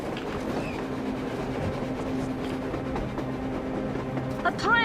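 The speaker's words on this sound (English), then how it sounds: "A train! A damn train on the surface!" In Metro Exodus, a train moves across the surface with a low continuous rumble and tonal hum that carry on throughout. Nobody speaks.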